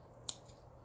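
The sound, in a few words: scissors trimming chrysanthemum bonsai branches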